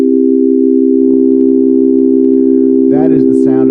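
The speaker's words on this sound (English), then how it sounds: "That is the sound of a pure triad" A pure sine-wave C major triad held at 264, 330 and 396 Hz: a smooth, loud, steady hum of three blended tones, with a voice starting to talk over it near the end.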